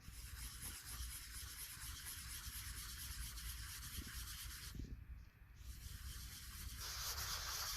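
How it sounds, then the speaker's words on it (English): Coarse sandpaper rubbing on wood in a steady back-and-forth scratch, faint but continuous and close, with a brief pause near the middle and no talk. "grab a coarser sandpaper"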